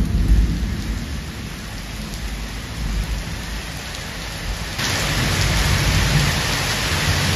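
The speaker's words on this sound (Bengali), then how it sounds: "জাল পেতেছি আর বৃষ্টি আরম্ভ হয়ে গেছে, প্রচুর বৃষ্টি।" Heavy rain pours down at night during a thunderstorm, with a fishing net set out in it. The dense rain hiss is loud and continuous and grows heavier partway through, with low thunder rumbling underneath and no voices.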